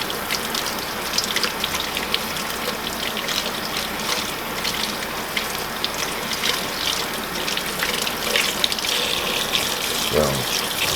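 Water squeezing and trickling out of a green luffa as it is wrung by hand, a steady wet splashing and dribbling close by for the whole stretch, with a brief thump near the end.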